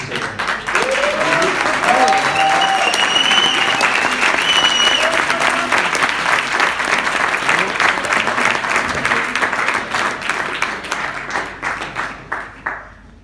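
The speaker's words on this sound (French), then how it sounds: "on va applaudir un peu plus fort" A seated audience in a hall applauds loudly and continuously for several seconds, with dense clapping and a few raised voices, then the applause thins into scattered claps before fading out.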